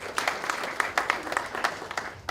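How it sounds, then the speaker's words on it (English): Audience applause at a university Lawyers' Day event in Uganda, a scattered, moderately loud clapping with distinct individual claps spread evenly through the moment, fairly close and without talk over it. "Let's clap for that."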